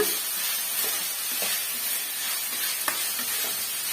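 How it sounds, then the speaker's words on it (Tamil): Steady, close sizzling of onions sautéing in a pan, with occasional soft stirring scrapes and no talking. "ஓரளவுக்கு வெங்காயம் நல்லா வதங்கி வரட்டும் இடையிடையே வந்து மிக்ஸ் பண்ணி கொடுத்துட்டுங்க"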